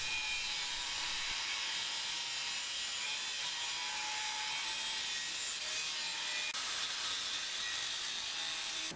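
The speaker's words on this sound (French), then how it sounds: "Exécution de chanfrein par l'extérieur du cadre, suffisamment profond pour aller tangenter la soudure effectuée précédemment par" Chamfering the aluminium frame of a Yamaha T-Max scooter, a steady close abrasive rasping and grinding that runs unbroken throughout, fairly loud and with no talk.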